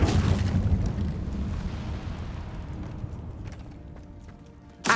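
Incendio fire spell from Hogwarts Legacy erupts with a loud, deep whooshing blast that slowly decays into a rumbling crackle over several seconds, ending with a brief sharp burst.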